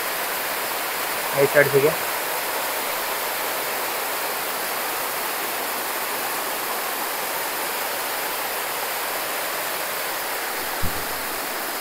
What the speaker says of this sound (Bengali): জলটা বহুত স্পিডে পড়ছে এখান থেকে